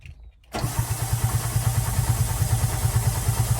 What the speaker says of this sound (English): So now I'll crank the first one, get the pumps running, and we'll crank the second one,